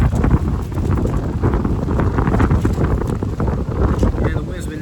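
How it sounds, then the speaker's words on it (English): Gusty outdoor wind at a camp buffets the microphone in a steady, loud broadband roar with rumbling low end, lasting throughout with no clear breaks. "the wind's been acting up all day"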